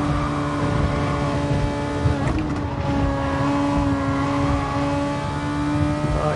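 Ferrari Formula 1 car engine in a racing video game, a steady high-pitched drone with shifting harmonics as the car holds speed, with a brief gear change or throttle lift midway, continuous and fairly loud.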